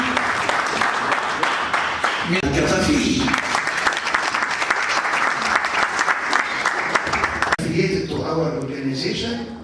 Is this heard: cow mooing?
no